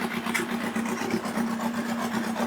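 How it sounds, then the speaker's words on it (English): A four-cylinder Yamaha XJR1300 motorcycle idles during carburettor balancing, with one cylinder running slightly out of tune. It gives a steady, continuous low engine hum at close range with no pauses and no talking. "Right, so that's the bike running"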